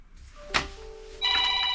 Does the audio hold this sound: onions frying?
no